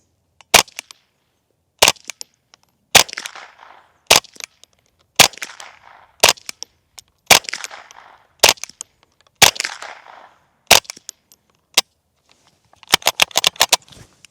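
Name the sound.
suppressed .22 rifle shots, Dead Air Mask 22, supersonic and subsonic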